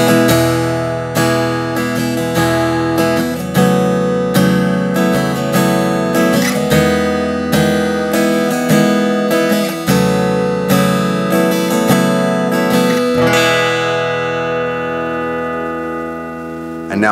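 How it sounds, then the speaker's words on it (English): Taylor GA Custom mahogany acoustic guitar strummed through a Fishman SA330X PA with reverb on, loud and close, bright chords ringing in steady rhythm before a final chord sustains and fades. "So I'll strum a little bit."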